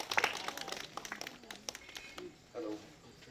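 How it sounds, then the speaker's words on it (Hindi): A crowd at a mask distribution event in a village applauds, with scattered, uneven claps that are faint and distant and soon thin out, followed by a brief voice. "ताली हो जाओ"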